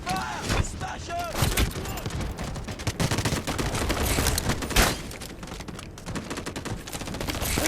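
Dense bursts of automatic gunfire and fusillades crackle through a Delta Force Mobile attack-and-defend match, sustained and loud, with a voice calling out faintly beneath.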